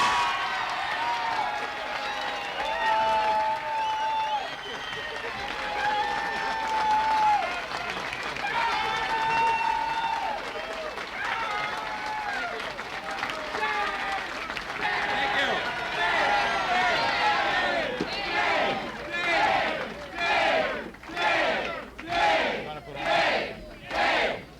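An election night crowd in 1982 cheers and shouts, with voices rising over a loud, continuous roar. Near the end the noise turns into rhythmic, pulsing chants and clapping.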